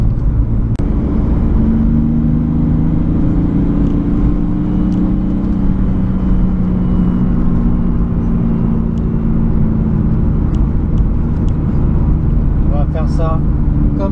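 A turbocharged BMW 328i E46 engine warms up on a private test track, a steady low rumble with gentle rises in revs, while someone talks over it nearby.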